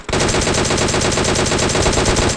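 Loud, sustained automatic gunfire in the mobile battle royale game PUBG Mobile, a rapid continuous burst of shots lasting a couple of seconds with no talking over it.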